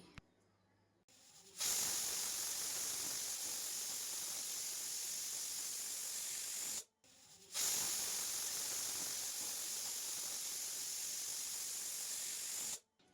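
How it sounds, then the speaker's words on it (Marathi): Two long, loud bursts of hissing steam from a pressure cooker whistling while cooking mutton curry, each lasting about five seconds, separated by a brief pause, with no voices. "आता आपल्याला कुकरचं झाकण लावून 1 ते 2 शिटी काढून घ्यायची आहे"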